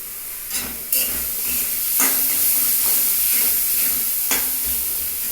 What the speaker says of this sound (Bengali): মাছটাকেও আমি একটু কড়াইতে নাড়িয়ে নিলাম